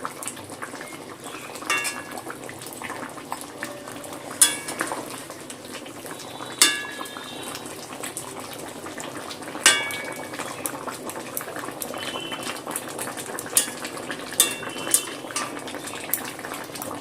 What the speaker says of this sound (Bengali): কোপ্তাগুলো গ্রেভির সাথে 2 মিনিট ফুটিয়ে নিয়েছি